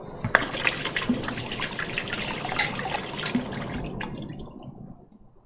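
Water pours steadily into a cooking pot of drained beans for several seconds, a continuous splashing gush that tapers off near the end, with no talking over it.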